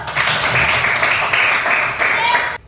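Students in an Indonesian classroom clap together in a steady, sustained burst of applause that runs evenly for about two and a half seconds, then stops abruptly.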